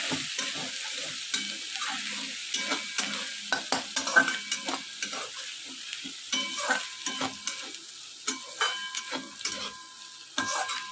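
Dried fish (shutki) fries in a pan, a continuous close sizzle punctuated by many quick stirring clicks and taps in an irregular rhythm, with no voices.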